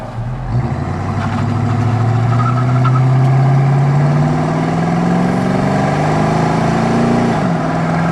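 A 1976 Pontiac Firebird Formula with a numbers-matching 350 V8 and automatic transmission drives, its engine heard up close from inside, revving smoothly as the pitch climbs steadily through a gear before dropping back at the shift.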